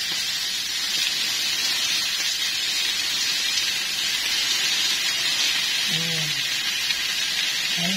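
Cabbage sizzling in a hot pan, a loud, even, dense hiss of steam and crackling oil running throughout, with a brief voice heard faintly near the end.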